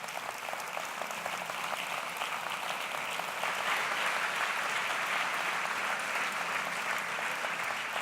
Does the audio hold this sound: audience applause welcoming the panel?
yes